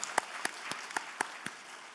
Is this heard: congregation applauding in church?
yes